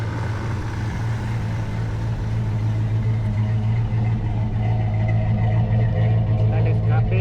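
A 1990 Dodge Ram truck with a TBI engine idles steadily on its own, a constant close low rumble, while someone talks over it.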